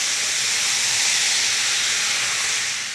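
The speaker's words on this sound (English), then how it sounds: "And then some red wine. And this is going to deglaze that pan." Red wine hits a hot pan while deglazing it, producing a loud, steady, bright sizzling hiss that holds evenly for several seconds close up, with no talk.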